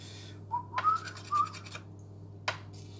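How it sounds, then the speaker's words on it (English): A person whistles a cheerful, jazzy tune in a home kitchen, a few short rising phrases over a low steady hum, with a couple of sharp scraping knocks, one of them near the end. "just sort of whistling away merrily"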